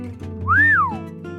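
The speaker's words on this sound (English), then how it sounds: "Sonic whistled as he was impressed" A single rising-then-falling whistle from Sonic, clear and close, an impressed two-note slide lasting under a second over a soft musical background.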